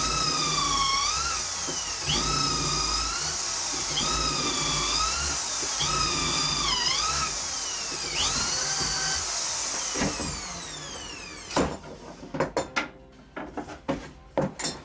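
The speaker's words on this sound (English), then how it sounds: "Drill the holes with the outer face of the drawer against" A power drill bores holes through a wooden drawer front held face-down against a jig's guide plate, a steady whining drone that shifts pitch as the bit bites, then dies away into clattering knocks and handling sounds.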